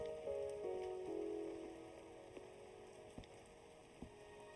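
Steady rain patters on surfaces in the video game Wuthering Waves, a soft continuous hiss with a few sharper drips, heard quietly beneath sustained musical tones.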